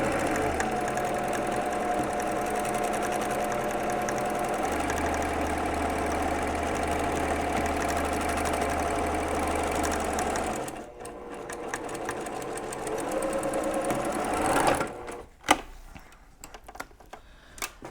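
A sewing machine runs steadily as it stitches a quilt block seam joining a Christmas tree side to the background fabric. The whirring is continuous and close for about eleven seconds, then gives way to quieter handling clicks.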